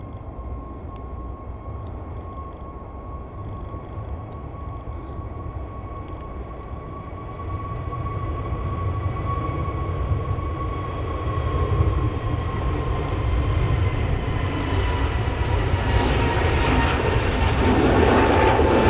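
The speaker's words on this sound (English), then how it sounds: "this is an Airbus A321neo going to Amsterdam" A KLM Airbus A321neo jet airliner takes off from Manchester Airport, its broad jet-engine roar swelling steadily louder over about twenty seconds, heard from a distance with no talking.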